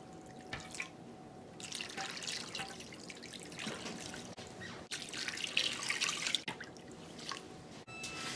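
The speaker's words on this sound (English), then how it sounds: "we're going to cover it with water" Water pours steadily into a big pot over beef, a continuous close splashing and trickling stream with a few gurgling surges.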